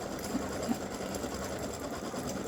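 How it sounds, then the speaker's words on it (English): An embroidery machine stitching a freestanding lace bow design, a steady continuous mechanical whir with a fast repetitive needle pulse, moderately quiet and alone without talk. "it's just going to stitch the bow"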